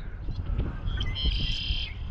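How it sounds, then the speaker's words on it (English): A red-winged blackbird calls outdoors in the early morning, a bright buzzy trill rising out of low rumbling background noise, with a few short chirps before it, moderately close. "hello, red-winged blackbird"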